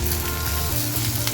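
Curry leaves hitting hot oil in a Kerala-style vegetable curry (gojju), giving a loud, steady, crackling sizzle that fills the whole moment with no voices.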